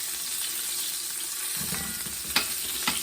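Beef short ribs browning in a Dutch oven give a steady close sizzle throughout, with a stronger fatty crackle and a couple of sharp spits toward the end.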